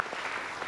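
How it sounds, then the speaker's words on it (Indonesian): Studio audience applause on an Indonesian TV talk show stage, a brief dense wash of clapping heard alone at steady level. "Kita kasih tepuk tangan untuk Kak Adib Hidayat."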